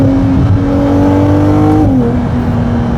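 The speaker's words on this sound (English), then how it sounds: "listen to this sound and try and tell me this isn't an amazing sounding car" A car engine revs and burbles while cruising, loud and close from inside the cabin, its steady drone holding pitch and then dropping smoothly partway through.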